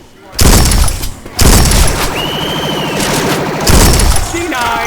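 Gunfire in the zombie video game Left 4 Dead 2 on the modded Parish campaign, loud bursts of automatic shooting with sharp cracks, mixed with a game voice and other in-game effects.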